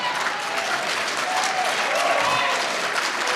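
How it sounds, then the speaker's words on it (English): A debate audience applauds steadily throughout, with sustained clapping from a sizable crowd filling the room at a fairly even level, and a few scattered voices are mixed in. "Please hold your applause."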